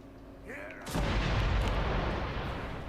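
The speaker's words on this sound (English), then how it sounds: "What was that explosion?" A video game explosion erupts suddenly after a short lead-in, a loud booming blast whose rumbling roar keeps filling the space to the end of the clip.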